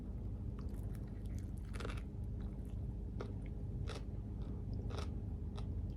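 Someone bites into a healthy wrap and chews, with several crisp bites and crunches standing out over a steady low background, close and intimate.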